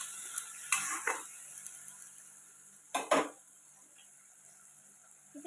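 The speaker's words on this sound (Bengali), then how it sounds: "এবার পেঁয়াজটা একটুখানি কষাবো" Onions sautéing in oil in a pan while cooking koi fish: a faint sizzle with a few scraping stirs of a utensil against the pan, quiet between strokes.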